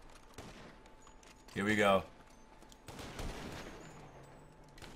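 Gunfire in GTA V, a short burst of shots followed by a rumbling volley, at moderate distance, with someone briefly speaking between them.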